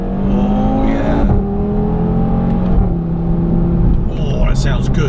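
A 2018 Audi TT RS engine pulls hard through a twisty road, its droning note rising then falling as it shifts and accelerates again, loud from inside the car with someone speaking over it.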